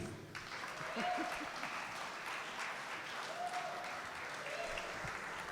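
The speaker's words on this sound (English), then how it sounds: "I love how you wait till we're actually finished before you start clapping." An audience claps steadily after a song at an outdoor forest fete, a soft, fairly distant wash of applause that holds for several seconds, with a voice briefly heard over it.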